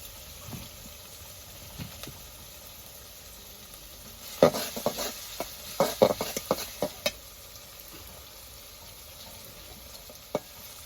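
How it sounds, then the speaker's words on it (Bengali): Tomatoes fry in oil in a home village kitchen, giving a faint, steady sizzle broken midway by a cluster of scraping stirring strokes, then settling back to quiet frying. "এখনকার টমেটো যত সিদ্ধ করো সিদ্ধ হয় তাই তেলে দিয়ে ভাজি করতেছি"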